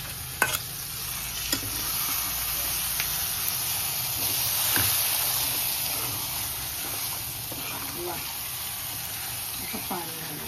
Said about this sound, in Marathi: आता चिकन छान फ्राय झाले